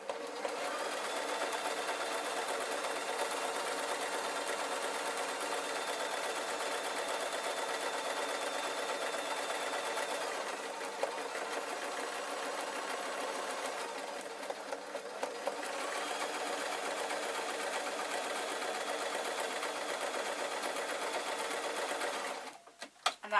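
A sewing machine runs in long continuous bursts while stitching a waistcoat collar, its fast, even whirr pausing briefly midway and stopping near the end.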